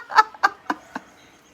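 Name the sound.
chickens clucking in agitation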